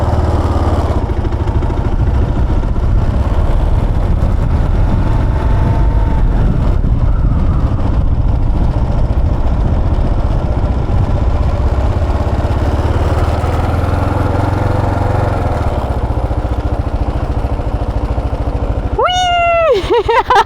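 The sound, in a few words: Kawasaki KLR 650 motorcycle engine starting and idling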